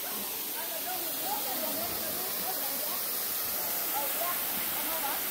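Habog Falls in Antequera, Bohol, pours with a constant, soft, broadband rushing hiss, fairly faint and even throughout, with a voice faintly heard beneath.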